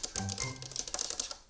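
Dull, hollow thuds from tapping the plastic exterior of a We R Memory Keepers Typecast typewriter, a quick run of close, fairly loud knocks and clicks in an uneven tapping rhythm, with no voices.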